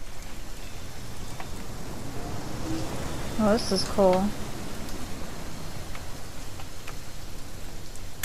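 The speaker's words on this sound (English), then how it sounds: "It's gonna rain the whole weekend, isn't it?" Rain in the video game What Remains of Edith Finch pours as an even, dense hiss from start to finish, with a short spoken remark briefly rising above it midway.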